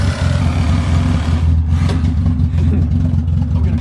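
A cheap Mazda Miata with a loud, muffler-less exhaust revs hard, its deep, steady rumble filling the whole stretch close and loud, with rising pulses toward the end.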